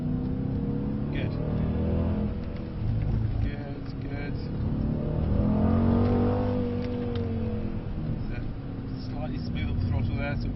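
Engine of a Mercedes-Benz C63 S accelerating on a track, a steady drone rising and falling in pitch as the car pulls, heard from inside the cabin beneath people talking.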